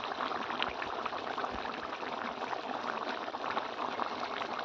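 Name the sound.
pouring a little water onto mustard for hilsa fish curry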